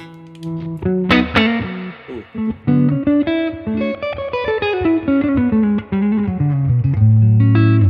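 Electric guitar played through a Universal Audio Dream Reverb amp plugin, loud and slightly distorted, with a sequence of plucked and sustained notes sliding downward and ending on a held chord, a reverberant tail on each note.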